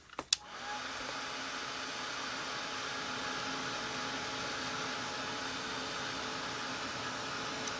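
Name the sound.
dryer drying paint on fabric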